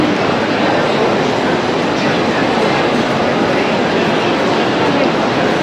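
Steady, loud rumble of a train at a platform in Switzerland, with a constant broad roar throughout, no breaks, like rolling stock moving through a station.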